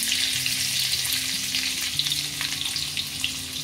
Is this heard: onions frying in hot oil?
yes